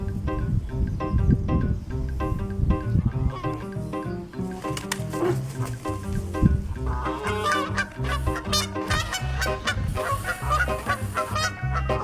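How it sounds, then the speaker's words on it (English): A goose gives a long run of loud, close, repeated honking calls, with a voice talking beneath them. "That's how a goose celebrates."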